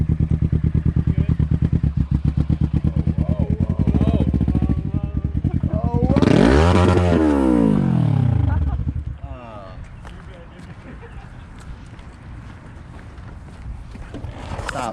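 A Kawasaki Z125 Pro motorcycle idles with a steady, throbbing engine note. It then revs up loudly in a rising and falling sweep before the sound drops to a quieter, rougher running note. It is recorded outdoors and close by, with wind buffeting the microphone.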